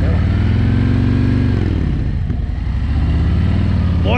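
Harley-Davidson motorcycle ridden during slow skills practice, its loud close engine rumbling continuously, easing off briefly then revving back up, with some voice mixed in.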